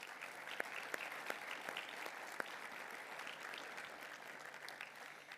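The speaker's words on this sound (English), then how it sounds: "Let's give a round of applause to our sponsors." Audience applause for sponsors at a university engineering capstone design showcase, a steady, even wash of many hands clapping from a crowd, with a few sharper individual claps standing out, sustained throughout at a fairly distant level.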